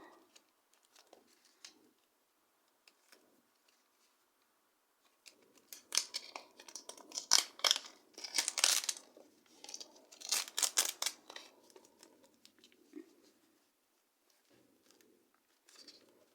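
Crinkling, tearing and rustling of a surprise sticker paper packet being opened by hand, quiet handling at first, then louder bursts of crackling paper in two main spells.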